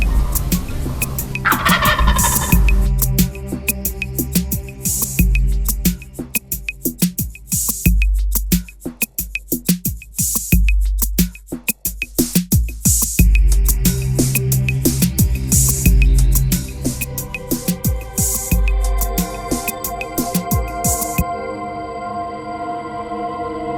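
A wild turkey gobbler in spring woods gobbles loudly several times, its rattling calls breaking in near and strong between quieter pauses, with no talking over them.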